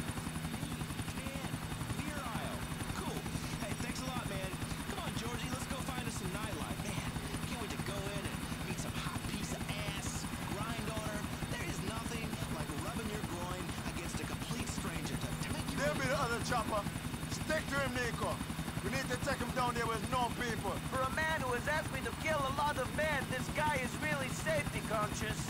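Helicopter rotor drone in Grand Theft Auto 4, flying over Middle Park as a steady low throb that runs the whole stretch beneath ongoing game dialogue and talk.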